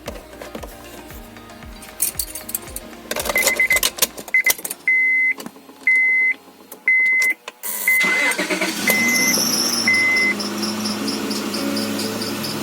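A car engine cranks and starts, chimes beep in a repeating pattern, then the engine settles into a steady, fairly loud idle up close.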